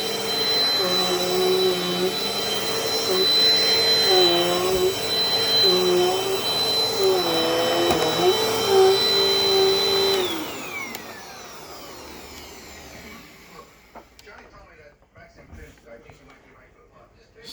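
A Dirt Devil Dynamite Plus vacuum cleaner runs close and loud with a steady high whine and a low drone for about ten seconds, then shuts off and winds down, leaving quieter handling noises.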